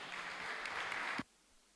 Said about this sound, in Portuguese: Vamos aplaudir Jesus pela vida do pastor Geraldo